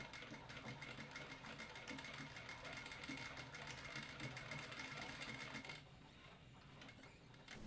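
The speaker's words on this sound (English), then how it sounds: "Stitch the layers together diagonally from the upper centermost fold down to a couple inches or so from the top, reinforcing your stitching several times on both ends." A sewing machine runs steadily, stitching the trim layers of a costume pant leg with a fast, even mechanical whir close by that eases off near the end.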